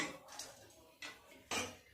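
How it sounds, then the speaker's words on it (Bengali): Whole spices, including cloves, are dry roasted and stirred in a kadai, with three or four faint scraping, rattling strokes at an uneven pace and quiet pauses between them. "সমস্ত মশলাগুলো একটুখানি কড়াই নেড়ে নেব।"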